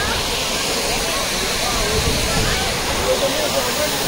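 Kakochang waterfall in Karbi Anglong pours as a loud, continuous hiss and rush of falling water, close by, with a voice faintly mixed under the steady roar.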